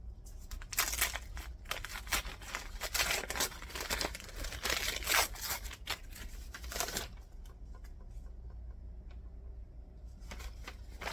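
Packaging being torn and crinkled open around a hardcover horror novel, with dense papery rustling and tearing for about seven seconds, then quieter scattered crinkles, close up with no talking.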